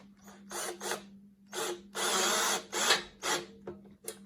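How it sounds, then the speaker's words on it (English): Self-tapping screw with a built-in washer driven into the front mount of a custom Studz Racing gas tank on a Trailmaster MB200 motorcycle, heard as several short buzzing bursts of a power driver with pauses, close and fairly loud. "we're just gonna run the self-tapping screw with a built-in washer in it"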